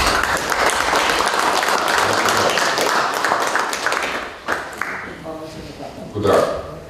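Thick applause from an audience at a regional basketball branch meeting greets a sports club president, loud and sustained for several seconds before fading into a speaking voice.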